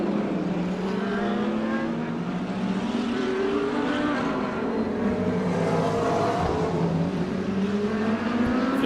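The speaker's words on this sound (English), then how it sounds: "Silvio's pushing hard, but he's not bridging any gap whatsoever over the second Lamborghini and the McLaren of Michael Stephen." Lamborghini and McLaren race cars roar past at a track race, loud engines rising and falling in pitch through a continuous wash of racing noise.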